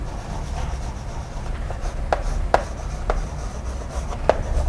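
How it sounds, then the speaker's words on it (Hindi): Marker or chalk strokes rubbing across a classroom board during a biology lesson on human respiration, a steady scratchy scrawl with a few sharper taps, fairly close over a low room hum. "चलिए वन बाय वन पॉइंट लिखते हैं"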